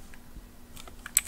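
Light, quick keystrokes on a computer keyboard, a short irregular burst of clicks growing a little louder toward the end over a quiet room hum.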